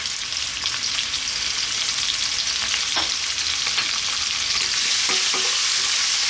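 Sliced garlic and onion frying in a pan over high heat, a loud continuous sizzle with brief scraping clicks as the pieces are stirred, no voices.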